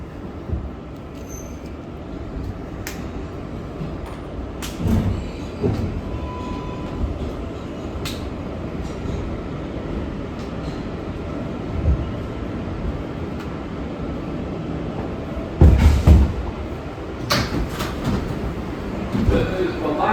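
Interior rumble of an R188 7 express subway train in New York heading to Flushing-Main Street, steady rolling noise with clanks and rattles, heavier thumps near the end.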